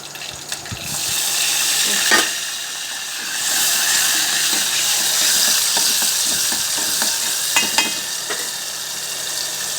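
Hot oil for tempering hisses and crackles loudly as green chillies go in, with stirring scrapes and a swelling sizzle that keeps up throughout.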